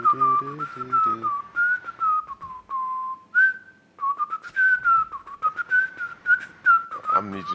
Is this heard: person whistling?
yes